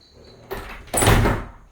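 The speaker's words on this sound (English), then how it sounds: "And I'll close this door." A screened door on a back porch in Costa Rica swings shut, a soft brush of movement and then a firmer closing thump with a brief rattle, close by and alone, with no voices.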